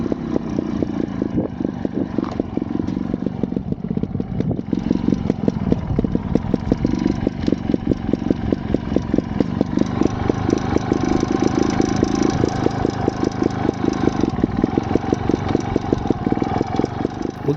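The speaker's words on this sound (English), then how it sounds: "I'm just going to stop here and kill the engine." A Scorpa 250 trials motorcycle idles on a practice trail, its engine a steady, close, rhythmic putter with a few light blips of throttle, running alone throughout.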